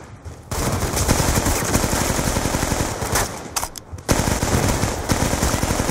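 An AK rifle fires in the Vengeance Zombies video game in loud, rapid automatic bursts, a sustained stream of shots with a couple of short pauses before the firing resumes.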